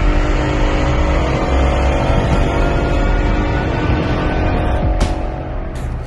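A Whipple supercharged, 5.2-swapped Mustang GT launches down a drag strip in 90-degree heat, its engine a loud, unbroken roar for the whole stretch that eases slightly near the end.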